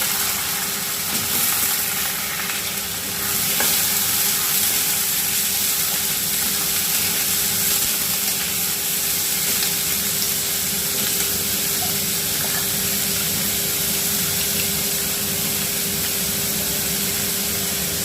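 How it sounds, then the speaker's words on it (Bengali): Garlic tempered in hot oil in a wok sizzles loudly and steadily, a dense crackling hiss that holds without a break alongside a faint, constant background hum. "আমি তেল বসিয়ে রেখেছি কড়াইতে। এবার রসুনটা আমি আগে ফোড়ন দিয়ে দেবো।"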